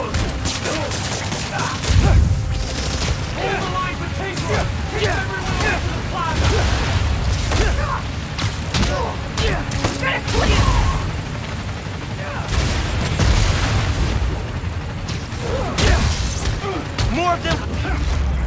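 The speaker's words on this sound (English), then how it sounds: "Need to head towards the gunfire." Bursts of gunfire and booming impacts in the Spider-Man Miles Morales video game, with rapid volleys repeating throughout amid mechanical clatter. Speech runs over the dense, loud action.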